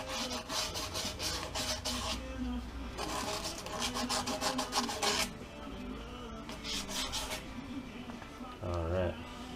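Steady back-and-forth rasping of hand sanding on a metal rear axle shaft at the seal surface, in repeated bursts, pausing briefly between strokes, close up.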